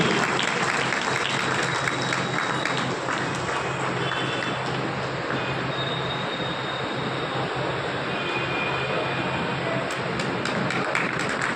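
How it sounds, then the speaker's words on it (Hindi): Loud, sustained applause from a ceremony audience welcoming an honoured guest, a thick continuous roar of clapping with no break from start to finish. "आप लोग जोरदार तालियां बजाइए डॉक्टर चरण सिंह जी का स्वागत करिए।"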